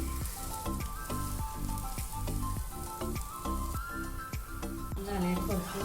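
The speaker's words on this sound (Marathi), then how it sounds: "दुसरा पण डोसा मी छान असा खरपूस भाजून घेणार आहे दोन्ही साईडनी" Oats dosa roasting crisp on a hot pan gives a soft, steady sizzle beneath a regular rhythmic musical backing that runs throughout.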